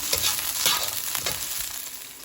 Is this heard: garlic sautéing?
yes